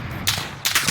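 Two quick bursts of gunfire in a shooter video game, each a sharp, loud crack with a short rattling tail, close and with no voices.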